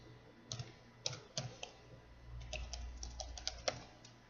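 Someone types a command on a computer keyboard in an Ubuntu terminal, producing a quiet, irregular run of light key clicks and taps heard close by with no talking.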